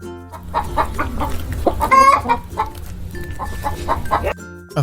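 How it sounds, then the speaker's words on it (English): A farmyard hen clucks in a steady run of short, throaty calls that sound close and fairly loud, with one sharper squawk midway and no voices. "Which animal clucks here?"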